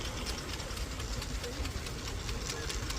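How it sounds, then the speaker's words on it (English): A 4-inch scale traction engine built in 1990 runs steadily at a steam and vintage rally, giving a continuous mechanical chuffing rumble with light rhythmic knocking, fairly close and steady throughout. "with his 4-inch scale traction engine, built in 1990"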